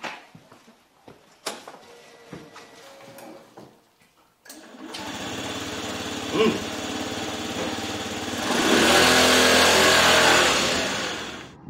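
A small Honda or Yamaha business motor scooter engine starts up after some clicks and rustling, idles with a buzzing drone, then revs louder and falls back, in the rain.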